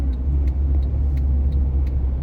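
Car driving in rush hour traffic, a loud steady low engine and road rumble inside the cabin with a few faint light ticks, no talking.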